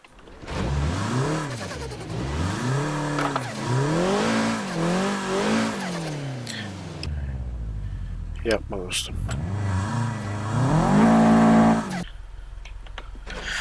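A Toyota GR86 is driven hard on a loose rally track, its engine revving up and down in repeated rising and falling sweeps, with tire noise and gravel scrabbling, loud and close, while someone talks over it.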